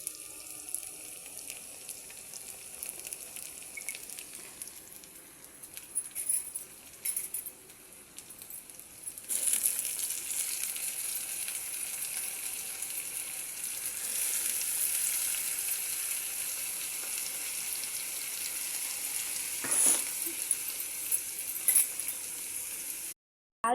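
Eggplant (brinjal) pieces frying in oil for vankaya vepudu, a hissing sizzle that jumps louder and brighter partway through as the pieces hit the pan, then settles into a steady close fry with faint clatter.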